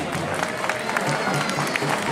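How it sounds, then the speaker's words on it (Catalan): A crowd at the presentation of a new capgròs festival figure in Tàrrega claps and cheers, with brisk, continuous applause mixed with some voices throughout. "Un fort aplaudiment per Guixanet"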